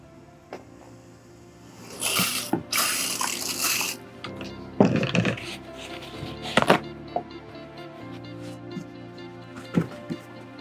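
Water sprayed onto plants in an ant formicarium while setting up the planting layer, heard as several short bursts of hissing mist separated by quieter gaps, close and moderately loud with no talking.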